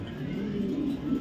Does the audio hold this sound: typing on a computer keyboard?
no